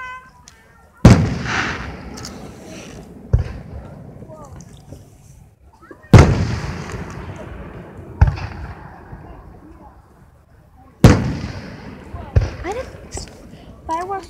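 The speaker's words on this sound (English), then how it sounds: "Fireworks have to sound like that." Three big fireworks bangs about five seconds apart, each a sharp loud burst trailing into crackle and rumble, with smaller pops in between and someone talking through the quiet stretches.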